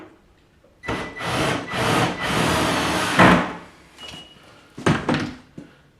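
A screw gun drives screws while an over-the-range microwave is mounted, giving several long whirring bursts close by, then a pause and a couple of short final bursts with clunks of hardware.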